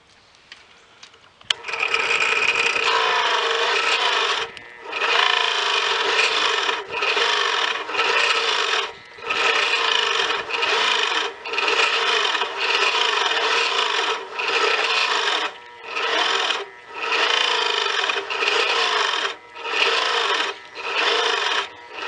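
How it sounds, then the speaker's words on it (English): A drill with a dulling Forstner bit bores shallow holes in a wooden game board, a steady grinding rasp in repeated close bursts of a second or two separated by short pauses, with no talking. "drilling holes with Forstner bits, only about 1/8 of an inch deep"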